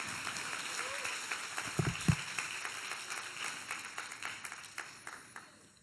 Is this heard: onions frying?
no